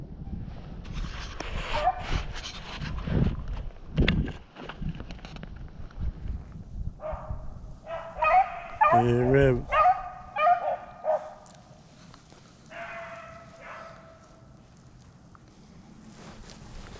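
Hunting dogs on a rabbit hunt bark and yip in excited bursts outdoors, some calls near and others farther off across the field.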